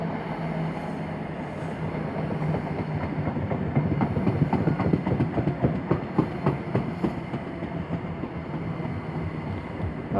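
A train rolls into Didcot Parkway station on the Great Western Main Line, its steady rumble and rhythmic clickety-clack of wheels over rail joints building close by and then holding, with no voices.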